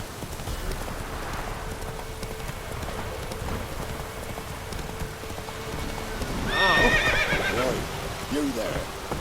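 Roach, Geralt's horse in The Witcher 3: Wild Hunt, gallops with steady clip-clop hoofbeats over rain noise, then gives a loud whinny near the end, with game voices around it.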